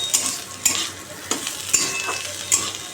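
Neem leaves and potato frying in a wok give a steady sizzle, broken by about half a dozen sharp spatula scrapes as the mix is stirred at a loose, unhurried pace.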